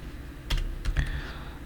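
Fingers tap a few keys on a computer keyboard, a handful of soft close clicks in a short cluster over a quiet room hum.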